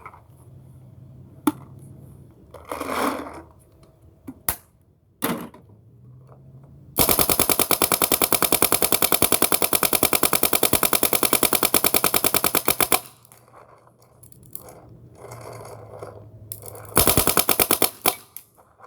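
A long, rapid burst of paintball fire from a Bob Long VIS marker with a .685 barrel on CO2 crackles loudly for several seconds, bracketed by shorter bursts and single pops, with an agitating loader's rattling whir between shots.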